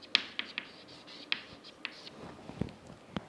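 A pen or marker writes out a maths derivative for differentiation work, making faint, quick scratching ticks and taps in an uneven rhythm, close and quiet, with no voice.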